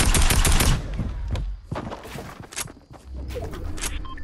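Spraying gunfire in Fortnite, a loud rapid burst of automatic shots at the start, then scattered single shots and thuds with quieter gaps between them.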